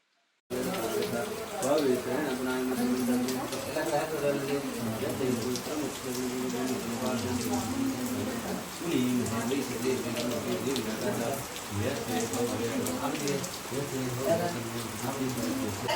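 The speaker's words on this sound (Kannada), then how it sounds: "ಇನ್ನೊಂದ್ ಕಡೆ ಮಳೆ ಜೋರಾಗಿ ಬರ್ತಾ ಇದೆ ಗೈಸ್." Heavy rain pours steadily with a dense, continuous hiss and patter during wedding preparations, while voices chant loudly over it throughout.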